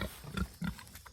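Pigs on a muddy farm after days of heavy rain give a few low, close grunts, two stronger snorts standing out in a short quiet burst with no talking.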